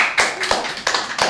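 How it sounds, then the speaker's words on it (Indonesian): A few sharp hand claps ring out in a small room for a student guest, four distinct beats in uneven rhythm, close and fairly loud. "Tepuk tangan buat Najla."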